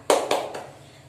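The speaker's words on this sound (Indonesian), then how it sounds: "Tepuk semangat." A class of children claps a quick chant pattern: three sharp clap bursts, the first two loud and close together, the third softer, then fading.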